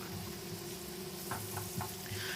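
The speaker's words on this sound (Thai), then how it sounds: "จากนั้นเราก็จะใช้ทัพพีนะครับ เขี่ยเบาๆให้แตกแบบนี้นะครับ" Eggs sizzling and frying with garlic in a hot wok, steady quiet crackle with a few soft scraping stirs of a ladle breaking them up.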